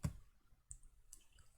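Computer mouse clicks while working in FreeCAD 0.20 software, a few faint, sharp, isolated clicks spaced apart in a quiet room.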